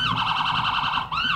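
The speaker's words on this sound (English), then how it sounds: "Lots of lights and sirens again with the city fire services." A loud wailing fire engine siren at a community day parade cycles rapidly up and down without pause, close by, with a brief dip near the end before resuming.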